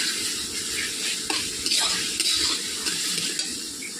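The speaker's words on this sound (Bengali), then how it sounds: "এভাবে মশলাগুলোকে আমি 5 মিনিট করে কষে নিচ্ছি।" Masala spices being stir-fried for a chana masala gravy, a steady close sizzle with scattered scrapes and clinks of a spoon against the pan, no voices.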